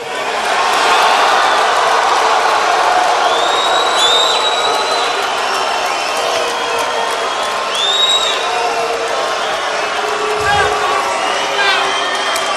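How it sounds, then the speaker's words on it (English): Dense rally crowd at a Kansas City campaign event, a steady wash of cheering and shouting with scattered whoops and whistles rising above it, loud and continuous throughout. "It sounds like you have a couple of protesters back there."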